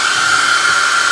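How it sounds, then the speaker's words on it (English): A handheld blow dryer runs steadily at close range, a continuous whooshing airflow with a high whine, loud and unbroken with no talk. "I brought my own blow dryer."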